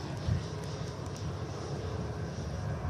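A Gulf Air airliner at Manchester Airport gives a distant, steady engine roar that holds at an even low level throughout, with no talk.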